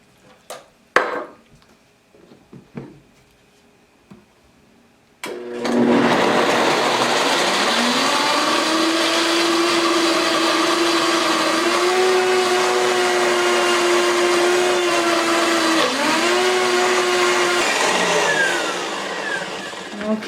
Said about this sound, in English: let's blend it up on high. You really gotta blend this up on high till it's silky smooth